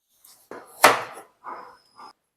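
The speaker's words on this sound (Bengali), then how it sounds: "এবার আলুগুলোকে আমি কেটে নেব" A knife cutting peeled potatoes into large pieces on a cutting board, several close, distinct chopping knocks in an uneven rhythm, one louder sharp strike standing out among softer cuts.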